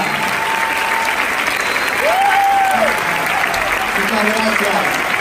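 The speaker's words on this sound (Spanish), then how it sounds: "Caro Bolillo, fuerte el aplauso, Caro, la compañera." Crowd at a women's assembly gathering gives loud sustained applause for a performer about to sing, dense clapping throughout with voices and whoops rising over it midway.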